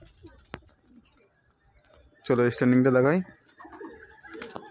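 Teddy pigeons kept for sale give a short, close, rounded burst of cooing lasting under a second, with someone talking quietly before and after.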